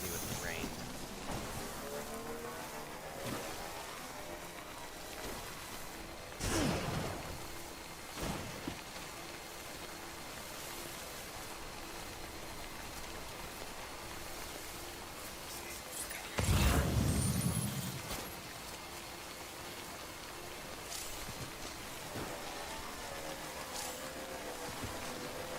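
Steady rain patters throughout in the video game Death Stranding, with a couple of brief louder bursts and low rumbles breaking through the constant hiss.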